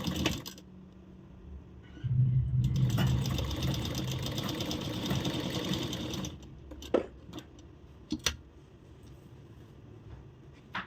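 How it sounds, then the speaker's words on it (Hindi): A sewing machine runs steadily for about four seconds while stitching the neck of a blouse, loud and close, then stops, followed by a few sharp clicks and knocks. "अब ये जो नेक है ना, इसी नेक पे हम सिलाई शुरू करेंगे।"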